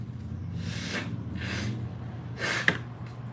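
A person blows their nose close to the microphone in a few short, breathy bursts, fairly quiet over a low background hum.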